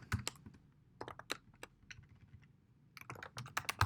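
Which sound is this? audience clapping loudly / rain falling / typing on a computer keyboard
typing on a computer keyboard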